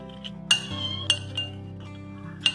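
A spoon clinks sharply against a bowl a few times while mixing cooked cauliflower into batter, with quiet scraping between the close, bright taps.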